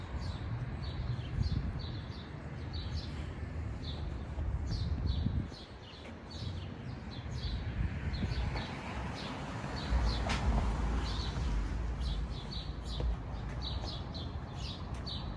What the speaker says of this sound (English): I do like the birds chirping though.